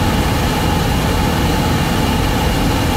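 A 2005 Ford Explorer engine runs steadily while the vehicle drives, giving a continuous low rumble and broad road hum with no breaks and no talking.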